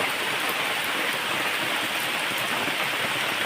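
Steady rain falls on a mountain trail in thick fog, a continuous broadband hiss of drops pattering on leaves and ground, even and unbroken throughout with no voices.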